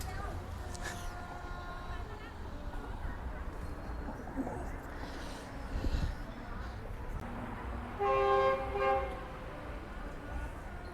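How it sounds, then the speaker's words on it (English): A train in Bangkok near the Taling Chan canal sounds its horn: two sustained horn blasts, a shorter one early and a louder, longer one near the end, over steady outdoor rumble and background talk. "Yes, there is a train coming"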